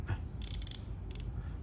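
A Daiwa Cadia FC LT2500S spinning fishing reel turns with a soft mechanical whir and two short bursts of fine, bright clicking, quiet and close.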